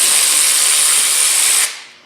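A cordless ratchet removing brake bolts buzzes continuously at close range for under two seconds, then cuts out and trails away.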